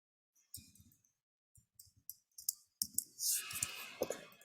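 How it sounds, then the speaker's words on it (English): Clicking keystrokes on a computer keyboard, a few scattered taps followed by a denser quick burst of typing, close and fairly quiet with no talk. "Oops, I typed the wrong one."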